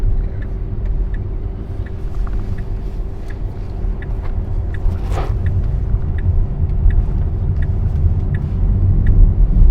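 A Tesla Model S Plaid accelerates hard at full throttle from around 60, with a steady low road and wind rumble building slightly inside the cabin and a faint repeating tick over the top.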